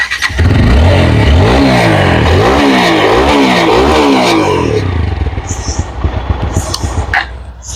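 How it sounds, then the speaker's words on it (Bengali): A second-hand motorcycle is started and revved hard, its engine rising and falling in repeated loud vroom sweeps close by before settling into a clattering, uneven idle. "তো বাইকটা স্টার্ট করে সাউন্ড"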